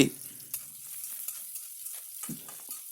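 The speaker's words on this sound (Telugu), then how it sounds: "మంట ఇప్పుడు కూడా మీడియం ఫ్లేమ్లో పెట్టి గోలిస్తే మంచిగా గోలుతాయండి" Soft, steady sizzling of onions and curry leaves frying in a pan over medium flame, broken by a few scraping stirs of a spoon against the metal.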